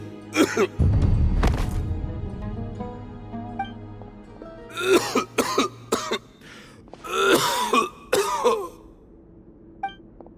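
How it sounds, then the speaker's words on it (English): A character in Genshin Impact coughs and clears his throat repeatedly, harsh close bursts in uneven clusters separated by quieter gaps, with a faint game background hum. "Why is he coughing so much?"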